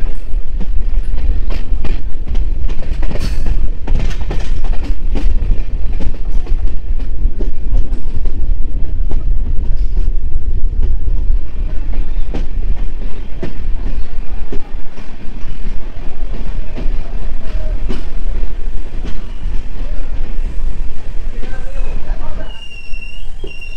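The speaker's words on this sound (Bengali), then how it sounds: "1 ঘন্টা 50 মিনিট দেরিতে আমাদের ট্রেন ঢুকলো জলপাইগুড়ি রোডে" The North East Express rolls into Jalpaiguri Road station with a loud, continuous rumble and clatter of wheels and cars. Sharp knocks and rattles break through the noise, and it eases slightly near the end.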